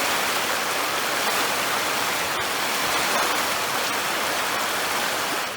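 A small river flows steadily into Lake Huron, a continuous broadband rush of moving water that stays even and fairly loud throughout, with no voices.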